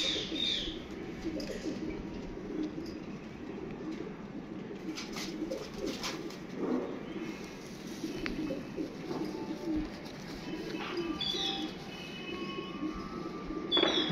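Pigeons coo softly with low, rounded, repeated calls over a busy background of rustling and scattered higher bird chirps, steady and moderately distant throughout.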